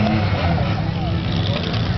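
Demolition derby cars rumble and rev together on a parade lap at a Father's Day derby, a dense, loud, continuous engine roar with rising rev sweeps and voices talking over it.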